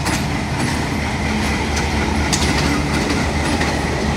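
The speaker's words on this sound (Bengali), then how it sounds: "এটা এই যে দেখতে পাচ্ছেন ট্রেন যাচ্ছে।" A train runs past on the railway line near Pakshi Bridge, close and loud, with a continuous rumble and rhythmic clickety-clack of the wheels and no voices.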